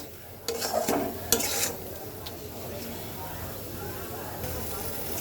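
Hilsa in mustard sauce sizzles in a pan while a spatula stirs and scrapes it, a few louder scraping strokes early on, then a quiet, steady frying hiss.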